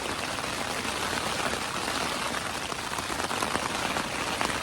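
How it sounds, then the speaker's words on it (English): Heavy rain drums on a tent at night on a Mount Whitney backcountry trip via Shepherd's Pass, a dense, steady close-up patter with no break. "It's raining pretty bad in here, or out here."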